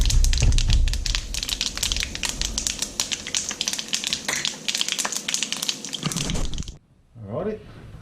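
Fenugreek and other whole spice seeds pop and crackle in hot ghee for a goat curry, a dense, steady sizzle with rapid sharp ticks that stops abruptly near the end.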